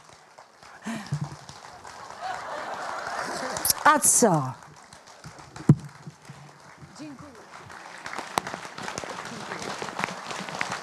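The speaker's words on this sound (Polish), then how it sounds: "Wielkie brawa." Broad applause from a concert audience swells and continues for several seconds while a voice talks over it.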